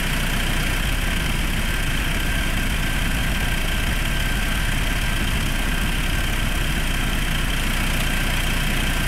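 A Mitsubishi engine idles with its 18-inch clutch fan turning, giving a steady, continuous drone and whoosh of air that stays loud and even throughout.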